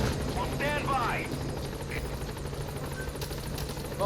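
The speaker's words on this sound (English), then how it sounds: "Support helicopter has arrived." Support helicopter arriving in the video game Metal Gear Solid V: a steady rotor thrum with fast rhythmic chopping and whine, mid-distance and constant, with short radio-style chirps and voice fragments layered over it.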